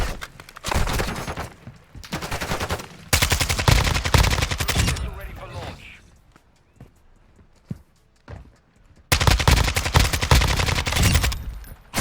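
In a video game, a sniper support build fires in loud bursts of rapid gunfire, separated by quieter stretches that hold a few isolated sharp shots, with a final burst near the end.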